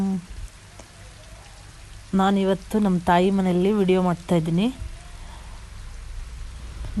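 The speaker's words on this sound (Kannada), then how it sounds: "ಇದು ಎಷ್ಟು ಜೋರಾಗಿ ಮಳೆ ಬರ್ತಾಯಿದೆ" Heavy May rain in the Malnad region hisses steadily throughout, with a person talking over it in the middle.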